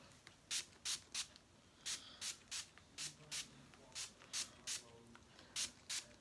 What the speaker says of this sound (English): I'm just gonna spray my hair to prevent it damage. So this is my, I've been using Tresemme Heat Defense Spray.